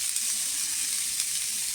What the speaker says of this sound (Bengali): এখানে ডিম দিয়ে এই মশলার সাথে ভালো করে ভাজা ভাজা হয়ে আসছে।